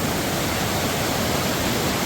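A river roaring past a house site in Kerala, a steady, dense rushing wash with no break or rise, loud and close throughout.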